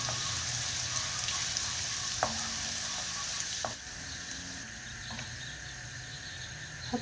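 Garlic butter frying in a pan for a fava bean and tomato dish, a soft, fairly faint steady sizzle with a few light clicks of a utensil, no talk.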